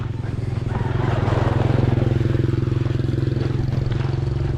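Nearby motorcycle engine pulsing with a fast, even throb as a rider pops a wheelie through the streets of Dumaguete town, loud and steady for several seconds.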